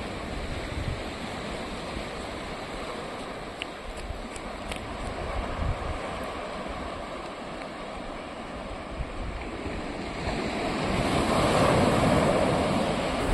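Sea waves wash continuously onto Dublagadi beach near Balasore, a steady broadband roar with wind buffeting the microphone that swells slightly louder toward the end.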